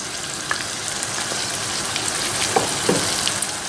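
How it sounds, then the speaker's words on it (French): Diluted tomato paste sizzles steadily in a pan with meatballs, a close, continuous frying hiss broken by a few soft stirring clicks, with no voices. "Je rajoute par-dessus 2 cuillères à soupe de tomates, concentré de tomates, dilué avec un peu d'eau."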